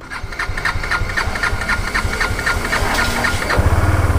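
An old motorcycle that had trouble starting fires up and settles into a steady, loud idle with rhythmic engine pulses and slight knocking, close by and with no talking.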